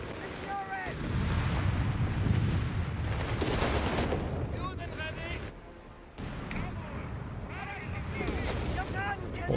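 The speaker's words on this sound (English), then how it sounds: "off-map artillery." Off-map artillery barrage in Company of Heroes 3's El Alamein battle, with heavy booming blasts and rumbling explosions running almost continuously, loud and dense, while someone talks over much of it.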